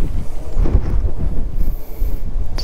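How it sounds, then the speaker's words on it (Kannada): Steady low whooshing of a wind turbine with gusty rumble, loud and close to the microphone, no voices. "ಊ ಅಂತ ಕೇಳಿಸ್ತಾ ಇದೆ ಇದು ವಿಂಡ್ ಮಿಲ್ದು"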